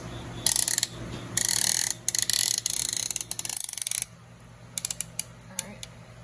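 A hand ratchet clicking in rapid bursts while tightening parts on an LQ4 V8 engine build, loud close ratcheting strokes with short pauses, then a few scattered quieter clicks.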